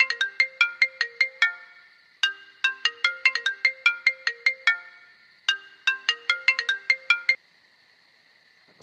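A phone ringtone plays a bright, quick electronic melody of rapid beeping notes in three separate bursts with short pauses between them, clear and close in an otherwise quiet room.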